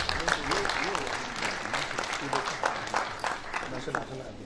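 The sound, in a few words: audience applause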